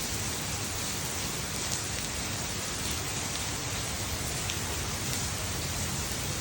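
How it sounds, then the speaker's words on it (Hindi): Heavy rain pours steadily, a dense, loud, unbroken hiss of drops with no voices. "खूबसूरत बारिश हो रही है।"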